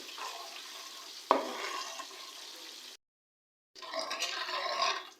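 Black pepper is stirred into Chinese-style chicken karahi, giving a rushing, watery sizzle with a sharp scrape near the start. Two stretches of stirring are broken by a brief silent gap.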